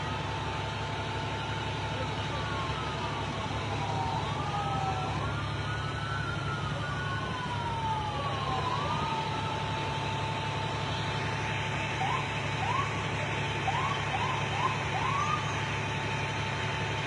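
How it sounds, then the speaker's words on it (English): An ambulance arriving at an overdose call, its wailing siren sweeping up and down at a distance, then switching to short rapid yelps, all under a constant low rumble of traffic and idling engines. "That's another ambulance arriving."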